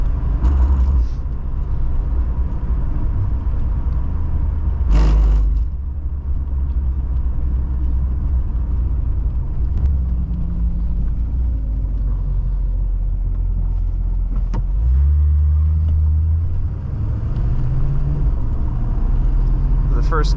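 A 1970 Mercedes-Benz 300SEL 6.3 accelerates hard, its deep engine rumble steady and close throughout with a rising surge near the end, while people talk over it.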